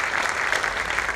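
Audience applause at a Ram Katha bhumi pujan gathering in Surat, a dense, steady wash of clapping that is loud and continuous, with no talk over it.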